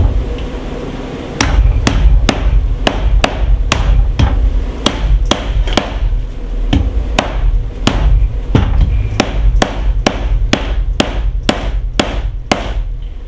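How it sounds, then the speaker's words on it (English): A hammer drives a hatchet head down onto its wooden handle with about twenty sharp, ringing blows in a steady rhythm, loud and close, over a low background hum. "And then we're going to take our hammer and beat it down."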